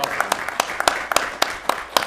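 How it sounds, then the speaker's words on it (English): Sparse clapping from a small group at a city council meeting, a handful of separate claps in an uneven rhythm over a low murmur of room noise, fading after about two seconds. "I think she deserves a round of applause for this"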